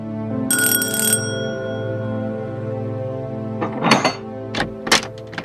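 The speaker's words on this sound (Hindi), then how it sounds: "घंटी बजी है, देखें।" A doorbell in a home rings with a bright chime that holds and decays, followed later by several sharp clicks and thumps.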